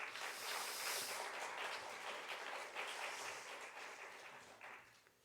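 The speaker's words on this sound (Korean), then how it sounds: "여러분 박수 먼저 한번 하겠습니다." Applause from an audience at a university chapel worship service, dense and steady at first, then thinning and fading toward the end with no talking.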